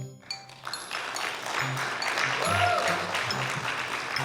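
A live audience at a technology security talk claps in a burst that builds quickly and holds as a dense, moderately loud patter of many hands for a few seconds.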